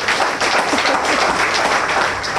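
Steady, dense applause fills a farewell gathering for the Venezuelan ambassador in Dominica, with many hands clapping close and continuously, without a break or a voice over it.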